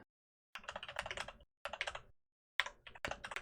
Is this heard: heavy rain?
no